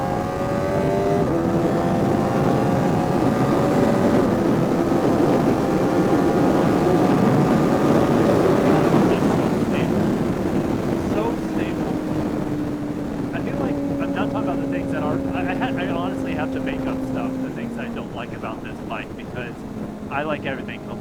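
Kawasaki ZX-4RR motorcycle at speed with an MRA windscreen fitted, steady loud wind roar and engine drone with shifting engine tones throughout, no talking.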